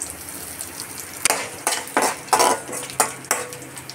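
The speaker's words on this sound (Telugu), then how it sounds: "జీలకర్ర ఆవాలు వేసుకోవాలి, ఎండుమిర్చి, కల్లిమాకు వేసుకోవాలి, కొద్దిగా ఇంగువ వేసుకోవాలి." Stirring and frying for wedding-style sambar as cumin, mustard seeds, dried red chillies, curry leaves and asafoetida go into hot oil: sharp metallic spoon scrapes and clinks against the pan in an irregular series over a soft sizzle.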